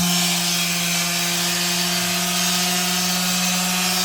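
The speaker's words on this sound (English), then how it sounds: "This is my new favorite quarter sheet sander." An old 1980s-era Black & Decker France 4010 Professional quarter sheet sander runs steadily at close range, a loud constant electric whine and buzzing hum with no pauses or talk.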